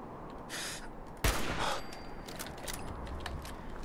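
Gunfire in Fallout 4 bursts out as one loud close shot, then a string of fainter, rapid cracks and mechanical clicks over a constant noisy background.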